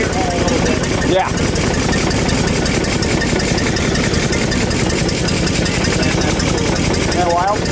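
An old engine runs loudly and steadily nearby while a throttle knob is pushed in, giving a continuous rumbling drone with a raised, rough running note throughout and a voice talking over it.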